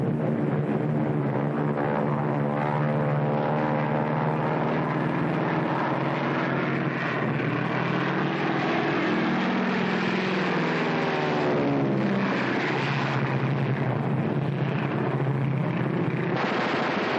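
Airplane engine droning in flight aboard a military aerial gunnery training plane, a loud continuous propeller roar with wavering pitch that swells and shifts, no talk over it.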